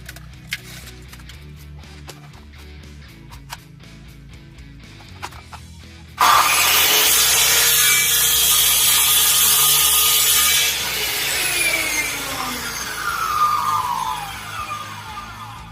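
A Crown Tools circular saw starts suddenly and cuts through a laminated board and a mahogany plank, a loud, close, high whining rasp that holds steady, then drops in pitch and winds down as the cut ends.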